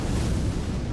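A dragon in Dark Souls Remastered breathes fire in one short, heavy whooshing roar, loud and close.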